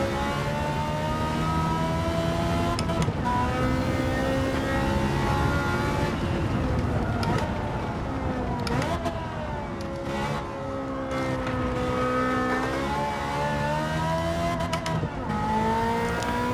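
Ferrari engine in Gran Turismo 7 driven to the rev limit, a loud, continuous high-pitched wail that climbs, drops with gear changes and climbs again across the whole stretch, with no talking.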